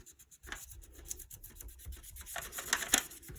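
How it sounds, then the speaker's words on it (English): Polymer clay being burnished down under a small piece of paper for a trinket box: close, dry rubbing and scraping strokes in a steady back-and-forth rhythm that grow slightly louder and busier toward the end, with no talking. "So then I'm just going to burnish this down."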